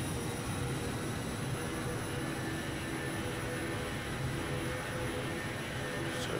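Lufthansa Airbus A380-841 jet engines spooling up in Microsoft Flight Simulator, a steady broad roar with a faint high whine, constant and close with no talking.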